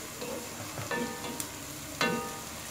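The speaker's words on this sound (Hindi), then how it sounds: "इसको सिर्फ चंद सेकंड फ्राई करेंगे" Whole spices (cloves, white cumin, black pepper, biryani flower, green cardamom and fennel) sizzle in hot oil for beef biryani, a steady close fry with a few sharp stirring clinks against the pot.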